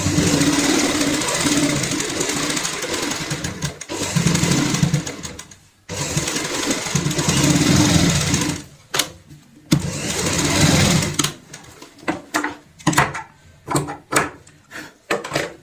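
Sewing machine stitching a fabric bag or purse, with long steady whirring runs broken by pauses, then short stop-start bursts toward the end, close and alone.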